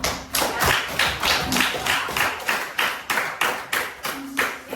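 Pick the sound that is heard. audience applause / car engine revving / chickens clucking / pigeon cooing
audience applause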